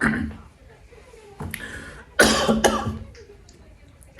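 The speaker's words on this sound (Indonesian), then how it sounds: "Batuk ya" Several sharp coughs close to the mic, a single one first, then a louder burst of two or three, with quiet pauses between.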